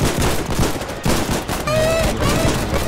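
Gunfire in the video game Foxhole during a beach landing assault, with dense overlapping rifle and machine-gun bursts that are loud and continuous. Brief pauses break the firing, and a faint whistling tone sounds near the end.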